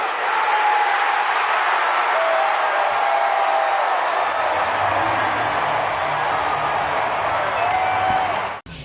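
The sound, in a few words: baseball crowd giving a pitcher a standing ovation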